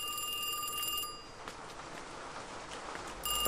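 A telephone rings in the video game Kiosk, set in a small fast-food restaurant. A steady electronic ring sounds for about a second, then a gap of quiet room noise, then the ring starts again near the end.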